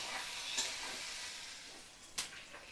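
Masala spices with chopped tomato frying gently in a pan over a low gas flame, a quiet continuous sizzle with two short stirring scrapes.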